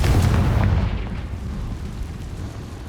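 A Confringo spell explosion in the Hogwarts Legacy video game opens with a loud booming blast that rolls off into a rumbling decay, alone without talk.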